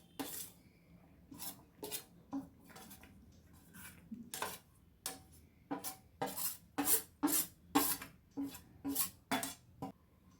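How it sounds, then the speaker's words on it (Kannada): A spoon stirs gram flour batter with dill greens, coriander and onion in a bowl, giving a steady run of close, repeated scraping and clinking strokes that grow louder toward the end, with no voices. "ನಂತರ ಇದು ಸಬ್ಬಕ್ಕಿ ಸೊಪ್ಪು, ಕೊತ್ತಂಬರಿ ಸೊಪ್ಪು ಮತ್ತು ಈರುಳ್ಳಿ ಕೂಡ ಹಾಕ್ಕೊಂಡು ಚೆನ್ನಾಗಿ ಮಿಕ್ಸ್ ಮಾಡ್ಕೊಳ್ಳೋಣ."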